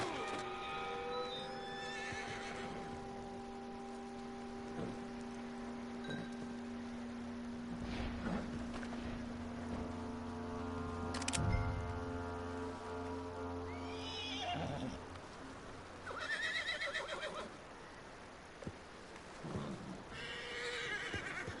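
A horse in Red Dead Redemption 2 whinnies and snorts repeatedly over a steady low hum, with occasional hoof clops and faint shifting noises.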